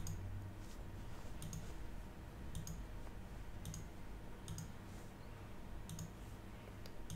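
Computer mouse clicks sound while someone works in Creo CAD software, sharp, close, isolated taps coming every second or so over a low background hum.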